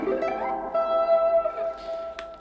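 Clean electric guitar sweep picking, bright notes rolling quickly up and down, then ringing out with a sustained tone at moderate loudness.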